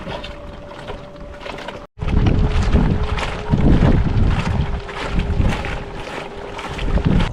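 Wooden raft drifting down a river, water sloshing and lapping in against its deck with a steady rushing wash and gusty wind buffeting the microphone after a brief cutoff near the start.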